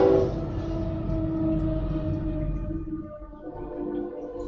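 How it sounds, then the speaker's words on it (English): A train rumbles past outside a house with double-pane windows, a steady low roar with a faint horn-like tone that slowly fades as it moves away, heard alone without voices. "Train."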